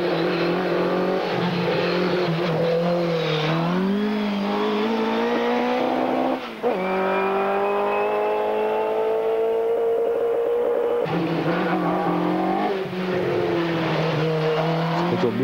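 Hill climb race car at Shelsley Walsh in 1997, an FIA Challenge event, accelerating at full throttle, its engine note climbing steadily and loud through gear changes, with a brief dip around a shift before pulling hard again.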